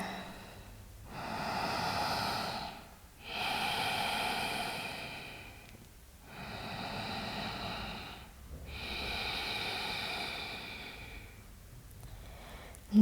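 Slow, deep yoga breaths during an eagle flow session, long airy inhales and exhales alternating in a calm, even rhythm, each lasting a couple of seconds, close to the mic with a soft hiss and no talking.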